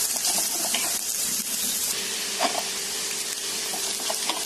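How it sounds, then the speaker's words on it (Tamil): Chopped onion and green chilli frying in a little oil in a kadai over medium flame, giving a bright continuous sizzle with occasional stirring knocks, close and steady. "கடாயில் எண்ணெய் கொஞ்சமே, வெங்காயம் பச்சை மிளகா எல்லாத்தையும் சேர்த்து வணக்கிக்கலாம்."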